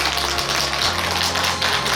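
Dense congratulatory applause from an audience at a ceremony, a steady wash of many hands clapping throughout at fairly close range.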